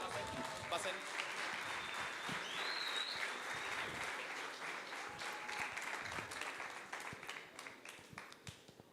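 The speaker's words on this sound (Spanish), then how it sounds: "Un fuerte aplauso, por favor" An audience at a 21st-anniversary forum applauds to welcome the speakers onto the stage, a sustained dense wash of clapping from a large crowd with a voice talking over it, thinning to scattered claps at the end.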